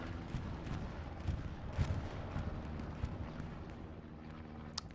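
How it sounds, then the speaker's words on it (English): A bombing run in the World War II shooter Hell Let Loose rumbles with heavy, low explosions, a steady deep roar of blasts and thuds with no talking. "Good bombing run here."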